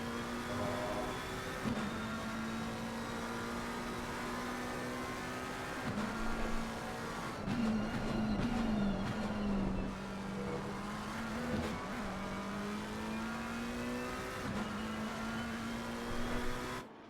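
GT3 race car engines in Assetto Corsa Competizione racing at Zolder, a steady loud drone of several cars running close together with rising and falling revs and shifts throughout, no talk over it.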